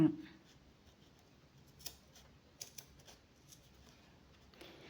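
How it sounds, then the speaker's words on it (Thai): Scissors snip through a trouser hem seam to cut it off, giving a few faint, scattered crisp cuts in a quiet room, with someone speaking at the start. "ตัดค่ะ ตัดตะเข็บตรงนี้ออกช่วยลด ความหนาของตะเข็บด้านข้าง"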